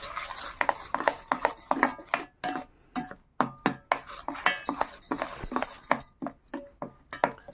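A spoon briskly stirs yogurt with salt, chili, three spoons of gram flour, coriander powder and turmeric in a bowl for palak pakora kadhi, giving close, rhythmic scraping and clinking strokes against the bowl with no talking.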